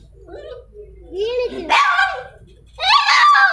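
Street dogs barking and yipping at an animal rescue centre, several sharp nearby barks in bursts with a dog whimpering between, over a low background hum.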